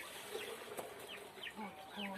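Startled hens and roosters flap their wings and cluck after water is splashed on them in a backyard coop, with short scattered clucks and rustling bursts at moderate distance.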